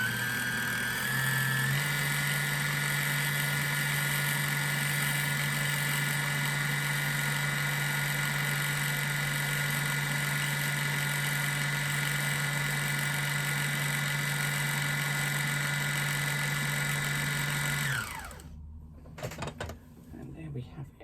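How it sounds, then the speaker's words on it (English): A sewing machine winds a bobbin with a steady, close mechanical whir and a constant motor hum, lifting slightly in pitch early on and running evenly until it stops abruptly near the end, followed by faint handling sounds. "So I'm just going to fill my bobbin"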